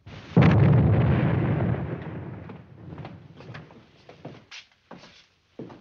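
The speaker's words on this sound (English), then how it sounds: "They've been firing that infernal cannon all day long." A cannon fires once with a loud, close boom that rolls off slowly over a couple of seconds, followed by faint scattered knocks and clatter.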